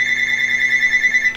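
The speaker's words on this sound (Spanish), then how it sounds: "Bueno, me están llamando por teléfono," A telephone rings with a steady high electronic tone, loud and close, held continuously without pause.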